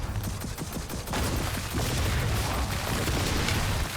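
Dense, continuous gunfire in Gears of War 4, rapid overlapping bursts with heavy booming impacts, loud and sustained throughout the battle.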